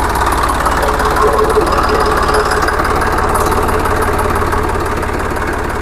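An old Swaraj 735 FE tractor with a Kirloskar engine idles loudly and close, its diesel thump pulsing in an even, rapid rhythm throughout without letup.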